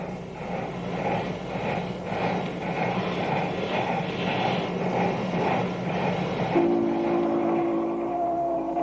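Union Pacific Big Boy steam locomotive pulling a loaded train, a steady rhythmic chuffing and mechanical rumble at moderate distance, joined near the end by a sustained whistle tone.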